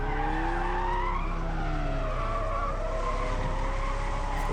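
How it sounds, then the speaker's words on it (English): Tires squeal loudly as a car and several motorcycles skid during a bridge chase in the action film Bigil, long sliding screeches over a dense, constant roar of engines. "Talapati Vijay leading in the car, chase, and followed by 4 or 5 motorcyclists"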